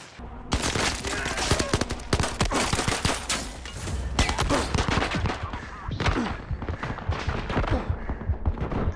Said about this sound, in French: Putain, arrête de me tirer dessus les gars.